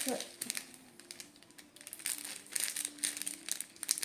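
A plastic packet of diamond painting rhinestones being pulled open up close, with bursts of crinkling and rustling that come and go, plus brief tearing, while a quiet voice talks at times.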